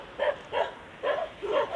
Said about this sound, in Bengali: কুকুরগুলো চলে আসছে